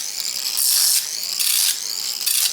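An old 7-volt battery-powered hand tool from around 1993 whirs in short high-pitched bursts, starting and stopping several times with a buzzing, ratchet-like mechanical tone, close and fairly loud.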